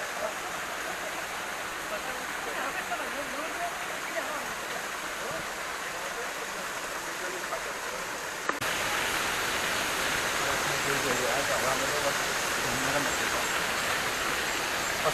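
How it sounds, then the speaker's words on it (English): Small waterfall beside a hiking trail near Rishikesh, a steady broadband rush of falling water heard close by, continuous and even, growing slightly louder partway through. "this waterfall"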